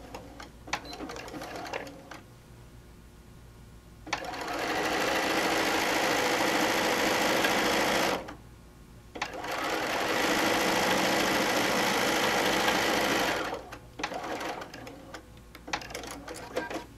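A sewing machine runs a quarter-inch seam on a quilt in two sustained bursts of steady whirring, about four seconds each with a short pause between, and quieter handling noises before and after.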